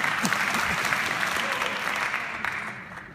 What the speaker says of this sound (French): n'applaudissez pas, gardez vos applaudissements